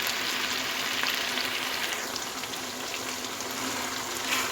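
Minced meat keema fries with green chillies in a pan, giving a steady, close sizzle with soft stirring scrapes and no pauses.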